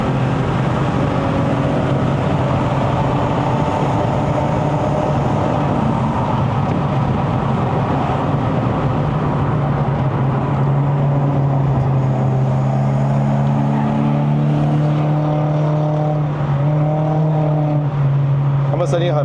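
A Lexus IS350 convertible with a 3.5-litre engine climbs the Genting mountain road, its exhaust droning loud and continuous with a rising, shifting tone as revs change, heard from inside the car.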